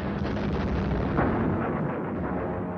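Continuous rumbling explosions from ships sunk during the Battle of Midway in the Pacific, a dense, steady roar of blasts with no clear gaps and no voices.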